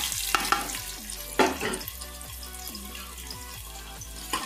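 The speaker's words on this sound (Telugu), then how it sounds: "ఇప్పుడు ఇలా కట్ చేసిన ఉల్లిగడ్డ ముక్కలు వేస్తాం." Chopped onions frying in a hot pan for mutton curry, a soft steady sizzle with a few sharp stirring scrapes, heard beneath background music.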